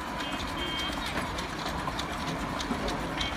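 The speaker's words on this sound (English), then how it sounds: "T for train." A cartoon train sound effect inside a children's phonics alphabet song, with a quick clickety-clack rhythm of wheels over light music.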